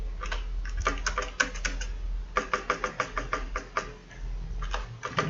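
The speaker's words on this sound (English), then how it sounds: "Now I am going to type text inside" Quick bursts of typing on a computer keyboard, close and clear, with uneven clusters of key clicks separated by short pauses.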